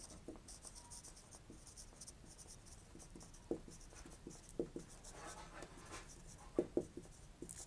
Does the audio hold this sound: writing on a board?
yes